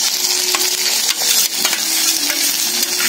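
Ground onion, ginger and garlic paste fries in a pan with a loud, dense sizzle close by, broken by brief stirring scrapes.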